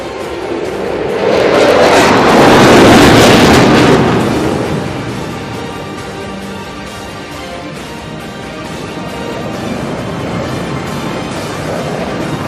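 A Turkish Solo Türk F-16 jet flies a loop over an air show parade ground. Its loud roar swells to a peak and then fades into a steady distant rumble, with no voices.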